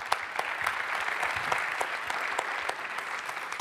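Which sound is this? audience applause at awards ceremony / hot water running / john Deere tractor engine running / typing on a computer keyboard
audience applause at awards ceremony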